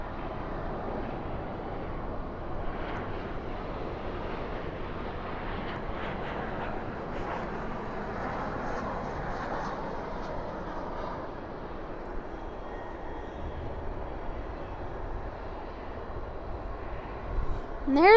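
A Boeing 747 takes off at night at Dallas/Fort Worth International Airport. A broad, distant jet engine roar rumbles steadily throughout and swells toward the end.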